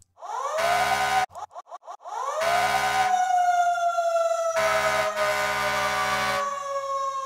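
A custom car horn from the Call of Duty Warzone video game blares a loud, siren-like tune of sustained tones broken by a quick run of short staccato toots, sounding alone and close.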